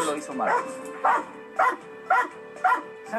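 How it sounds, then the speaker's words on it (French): A trained dog barks at a person on command, giving a steady series of sharp, loud barks about every half second, close by, with a voice faintly underneath. "un chien pour le faire aboyer sur une personne comme ça"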